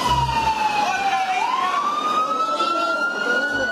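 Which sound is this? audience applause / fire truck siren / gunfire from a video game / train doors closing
fire truck siren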